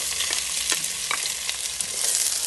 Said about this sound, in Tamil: ஆனியன் வந்து நல்லா டிரான்ஸ்பரண்ட் ஆகிற வரைக்கும் சாட்டே பண்ணுங்க